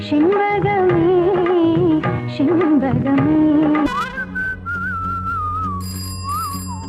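Melodic whistling from a song rises over a retro film-song backing, loud and clear, with a bright sustained whistle tone carrying the tune across the second half.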